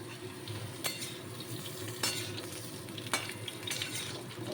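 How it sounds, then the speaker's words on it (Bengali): Cut raw mango pieces frying in a pan, a steady close sizzle with a few sharp clinks as a spatula stirs and scrapes the pan; no talking. "এবার কেটে রাখা আমগুলো দিয়ে দিচ্ছি, কাঁচা আম"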